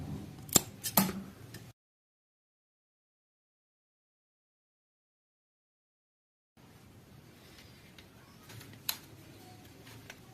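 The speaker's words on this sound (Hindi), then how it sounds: "इसको हम पहले काट लेते हैं" A part is cut during a motorcycle clutch repair, with a few sharp close snips at the start, then a long silence and faint room noise with one more click.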